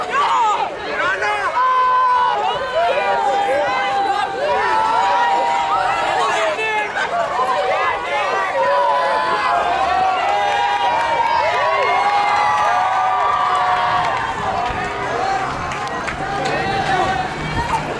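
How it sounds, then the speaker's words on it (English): Crowd cheering and shouting as torch relay runners pass through Manchester, a loud, sustained mix of many voices, whoops and chatter lasting the whole stretch. "give them a big cheer!"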